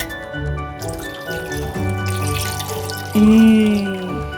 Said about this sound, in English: Now add the whole milk.